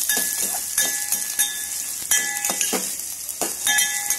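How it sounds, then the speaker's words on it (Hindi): Finely chopped onion fries in a pan with a bright, continuous sizzle, broken by several sharp metallic clinks and scrapes from stirring. "अब इसी के अंदर हम बारीक कटा हुआ प्याज डाल देंगे। अब इसे भी हल्का ब्राउन होने तक हम पका लेंगे।"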